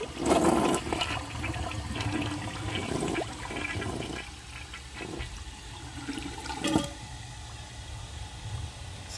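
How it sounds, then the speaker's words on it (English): A 2007 Kohler Highline Ingenium toilet flushes with a loud, close rush of water that swirls steadily and then settles into continued draining and refilling. "I'm going to let the tank fill up and give it another flush."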